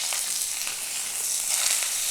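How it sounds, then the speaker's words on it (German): Pork belly fries in a small amount of oil over medium heat, a steady close-up sizzle and crackle with a few brief louder pops and no voices. "Jede Seite gut anbraten."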